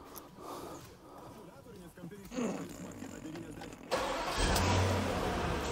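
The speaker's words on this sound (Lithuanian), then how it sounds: "Reikia užvest mašiną." A car engine turns over and catches, followed by a louder steady idle in the last seconds, with faint voices earlier.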